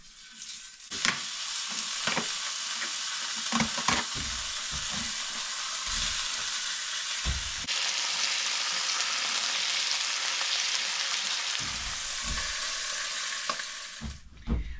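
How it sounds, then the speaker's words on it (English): Thick-cut bacon, about half an inch, sizzles steadily in a pan, a loud continuous crackle broken by occasional clanks and thumps of utensils, with no voices. "Look at this bacon. Look how thick. Look how thick that is."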